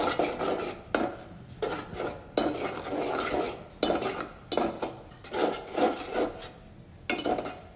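Beef pieces coated in spices are stirred in a cooking pot, a steady run of rough scraping strokes against the pot repeating every second or so, close and without talk.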